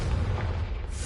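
Confringo, an explosive spell, detonating in Hogwarts Legacy as a dense, loud rumbling blast that fills the whole brief moment with heavy low-end roar.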